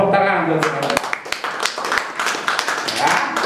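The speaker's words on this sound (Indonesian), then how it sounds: "Kasih tepuk tangan untuk Tuhan." Church congregation clapping hands: a few sharp, spaced claps ring out beneath a prominent voice speaking throughout, close and fairly loud.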